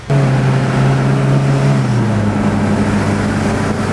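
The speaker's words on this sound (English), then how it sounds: "Still has a little bit of exhaust leak?" A steady, loud exhaust rumble from a Toyota Highlander with a slight exhaust leak, a low drone that dips slightly in pitch partway through, idling close by with no voices.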